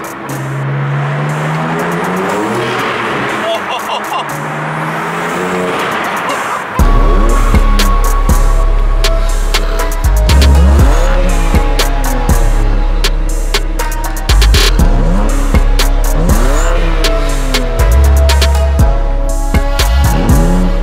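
A BMW AC Schnitzer ACL2 drives hard. Its loud, close engine revs up repeatedly, with distinct gear changes, after a quieter opening stretch.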